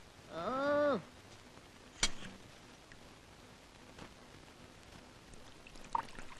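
Arrack poured into a glass in a Kerala home: a short gurgling pour of under a second, close and clear, followed by a single sharp clink and then quiet room tone with faint small knocks.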